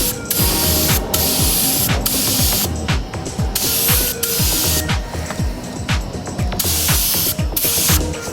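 A spray gun lays coats of colour paint onto a plastic bumper with a loud, close hiss. The hiss is broken by short pauses as the trigger releases, and faint ratcheting mechanical noise sits underneath.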